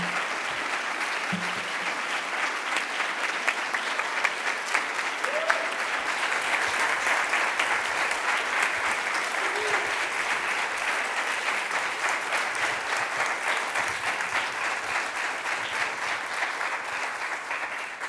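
An audience at the National Constitution Center gives a warm welcome as speakers take the stage, with dense, sustained applause at an even level throughout and a few faint voices rising now and then underneath.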